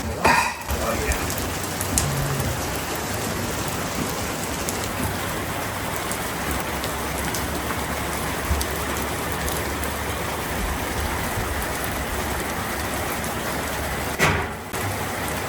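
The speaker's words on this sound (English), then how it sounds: "Wow, it is really raining." Heavy rain during a thunderstorm pours down in a loud, continuous wash of drumming drops, steady from start to finish, with a brief louder surge near the end.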